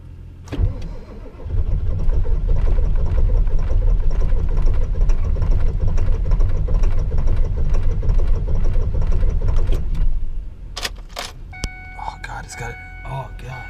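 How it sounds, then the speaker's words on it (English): A Ford 7.3 diesel engine cranks in very cold weather, a loud, rhythmic, labouring churn that runs for several seconds and then stops abruptly, followed by a few sharp clicks and knocks. "Dang, this is a cold start right here."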